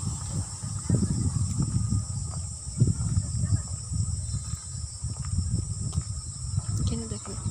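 Crickets chirp in a continuous high, even drone among the trees of a quiet, large university campus at Jahangirnagar, with low voices and rustling moving underneath.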